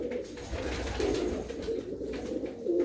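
A flock of blue pigeons in a fancier's loft coos in low, rolling, repeated phrases close by, a steady murmur with faint background clatter and no voices.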